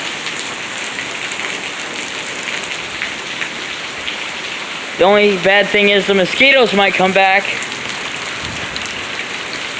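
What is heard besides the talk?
heavy rain during a thunderstorm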